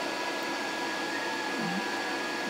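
A Yamato inverter welding machine runs again after its power is restored, giving a steady, even electrical hum with a fan-like whir that holds unchanged throughout, with no voices.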